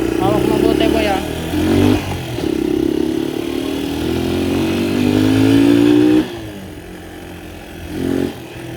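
A Honda XL 200 motorcycle engine runs loud and close, holding a steady revving drone with rising pitch sweeps before dropping back to a lower idle near the end, while voices talk over it.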